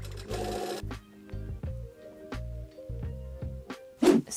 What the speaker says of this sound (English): I'm gonna stitch this down with a seam allowance of 3 millimeters.